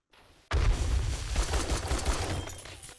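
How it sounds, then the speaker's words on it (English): Sustained rapid fire from a pipe machine gun in 7 Days To Die, starting abruptly after a quiet moment and rattling loudly and continuously for nearly three seconds. "The pipe machine gun broke."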